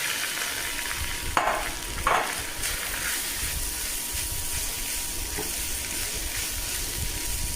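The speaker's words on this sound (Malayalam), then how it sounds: "വെന്ത ചോറ് ഇതിലേക്ക് ഇട്ട് വഴറ്റിയെടുക്കുകയാണ്" Cooked rice being sautéed in a pan, a continuous close sizzle with a couple of sharp stirring scrapes early on and no talk.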